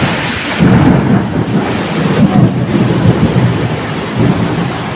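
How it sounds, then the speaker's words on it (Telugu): Heavy rain with wind and rolling thunder during a bus journey, loud and sustained, with deep rumbling swells rising and falling over the constant downpour. "వాన గాలి చెరిసే వాన ఉంది."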